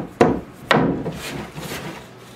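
An axe file scrapes across a metal trapping tool in two distinct, loud, close rasping strokes, each with a sharp attack fading into a grinding tail, followed by softer scraping.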